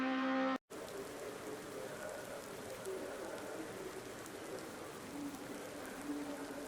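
Rain falls in the racing game Automobilista 2 as a steady, even hiss that continues unbroken after a brief cut at the start, with no talk over it.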